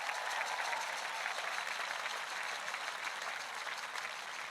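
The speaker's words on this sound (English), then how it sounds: "Give them a round of applause." A large audience applauds graduating students at a 2021 high school graduation ceremony, a dense, even roar of clapping sustained throughout without talk.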